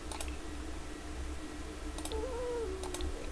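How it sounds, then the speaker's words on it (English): A stomach growls in a short, wavering gurgle in the middle of the clip, heard against steady soft clicking from a computer mouse and keyboard. Nobody talks. "Oh, that's my tummy singing to me."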